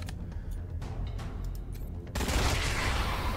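Explosive bolt gunfire in the video game Wasteland 3, a burst of sharp shots followed by a loud, sustained crackling blast that fills the end.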